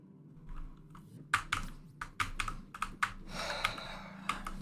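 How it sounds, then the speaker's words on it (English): Someone types on a mechanical keyboard, producing irregular bursts of loud, close clacking keystrokes with short pauses between them and faint breathing underneath. "I have a mechanical keyboard"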